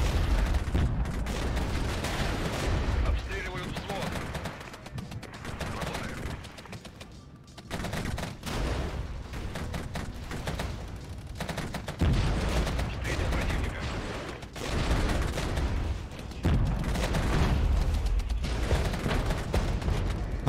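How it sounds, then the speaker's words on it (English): Artillery barrage in the video game Regiments rolls on as dense, continuous booming and gunfire, heavy and loud throughout, with brief dips before the pounding resumes. "Artillery barrage helping a lot there"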